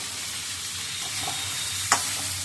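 Chicken tipped into hot spiced oil in a pan, giving a soft steady sizzle with a faint stir and one sharp clink of a spoon against the pan near the end.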